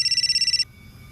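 A telephone trills with a rapid, pulsing electronic ring for about half a second, then cuts off, leaving a quiet room.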